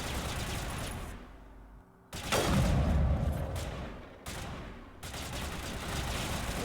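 Loud bursts of gunfire in the video game Mass Effect, booming volleys that break off with short gaps between them, close and forceful with an echoing tail.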